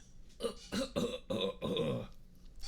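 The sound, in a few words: coughing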